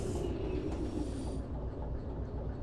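Railcars coupling hard in the train simulator game Derail Valley, a continuous loud rumble of metal rolling stock filling the short stretch without talk.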